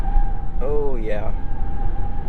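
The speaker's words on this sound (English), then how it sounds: "That was a lot of tire squeal at about 53 miles per hour" Tires of a 2022 Mitsubishi Eclipse Cross squeal at about 53 mph: a single wavering, pitch-bending squeal lasting under a second, loud and close, over steady road rumble and a faint constant whine.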